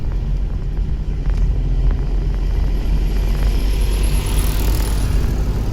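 A car's engine is revved as the clutch is let out and the accelerator pressed, pulling away in second gear: a steady, deep rumble close by, with a thin rising whine building toward the end.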